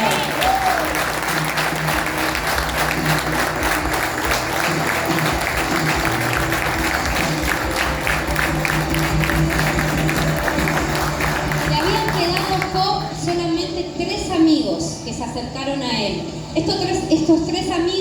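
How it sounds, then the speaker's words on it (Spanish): A church congregation gives loud, sustained applause for the Lord during a sermon, a thick wash of many hands clapping that later thins out as a voice and other sounds take over. "cuántos le dan un fuerte aplauso al Señor"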